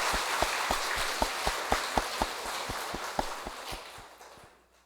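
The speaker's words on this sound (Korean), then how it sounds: "우리 모두를 위해서 또 크게 박수 한번 칠까요?" A church audience at a Catholic devotional seminar claps as a crowd, a steady patter of many hands with a few sharper individual claps, fading away toward the end.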